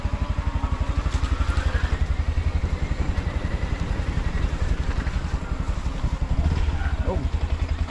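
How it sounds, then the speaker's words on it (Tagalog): A motorcycle engine runs steadily with a rough, pulsing throb, close and loud throughout, riding along a slippery road with faint voices underneath. "Motor pala."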